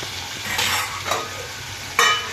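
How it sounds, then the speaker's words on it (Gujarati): Tomatoes, green chili and curry leaves sizzle in hot oil in a pan, with close bursts of frying crackle as they are stirred, a sharp loud sizzle flaring near the end. "ટમેટાં, લીલું મરચું અને મીઠો લીમડો ઉમેરી દઈએ। તેલની અંદર જ આપણે થોડીક વાર સુધી પાકવા દઈશું।"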